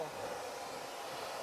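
A hair dryer blows air into a small homemade forge, a steady close roaring hiss that holds level for a moment.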